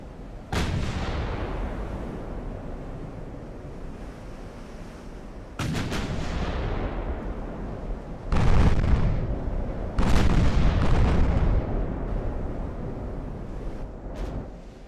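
Heavy naval gunfire from a battleship carrying 69 eight- and nine-inch guns in the game Ultimate Admiral: Dreadnoughts: several loud, deep booming salvos with long rumbling tails, each new volley cutting in over the fading roar of the last.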